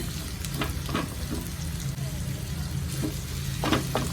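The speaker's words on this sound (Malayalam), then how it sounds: "രണ്ട് സവാള ഇട്ട് കൊടുക്കാം ഇത് നന്നായിട്ടൊന്ന് വാടിക്കോട്ടെ" Two sliced onions wilting in a hot pan: a constant close frying hiss with occasional stirring knocks, and a voice talking underneath.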